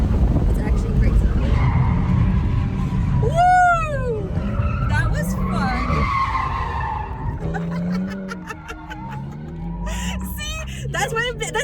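Car drifting on a race track during a track day, its engine roaring loud and steady with skidding, squealing tires throughout, while people talk and cheer over it.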